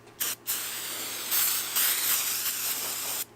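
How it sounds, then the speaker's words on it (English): Several hissing blasts from a brake cleaner aerosol can sprayed on car brakes, a couple of short bursts followed by a long continuous spray, close and loud. "Get some brake cleaner."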